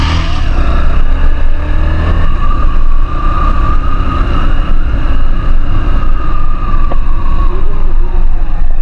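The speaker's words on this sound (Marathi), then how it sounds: "आता एक फोर व्हीलर आला टू व्हीलर आलाय" Vehicles pass on the Malshej Ghat road, a continuous loud engine drone with shifting tones as a car and a two-wheeler go by, filling the whole stretch.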